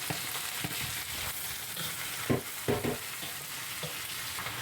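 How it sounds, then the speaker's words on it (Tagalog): Napa cabbage frying in a pan with dried shrimp, a close, continuous sizzle broken by a few soft stirring knocks and scrapes in the middle. "pwede na siya natin ilagay ang ating napa cabbage"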